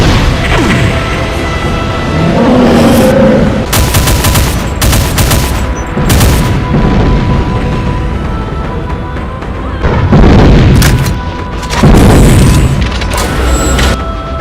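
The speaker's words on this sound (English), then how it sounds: "Cannonball shots." Cannonball shots in a Doom mod fight with Cyberdemons ring out as heavy, booming blasts in repeated bursts and volleys, some rumbling and crashing, loud and close throughout.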